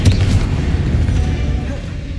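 A Bombarda or Confringo spell explodes in the Hogwarts Legacy video game with a loud, deep, rumbling blast that fills the whole moment and slowly fades.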